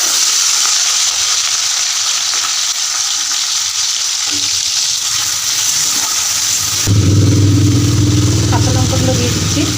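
Nigella seeds sizzle in hot oil in a pan with salt and torn dried chilli, for a prawn and papaya dish. A steady frying hiss runs throughout and turns louder and fuller partway through, with stirring sounds.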